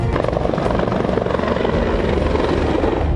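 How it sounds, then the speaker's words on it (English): Loud, continuous rotor thump and engine roar of a helicopter hovering close above a building at the Washington, D.C. Navy Yard shooting scene, holding steady, with no voices. "There's a helicopter now that is hovering very, very close to the top of that building"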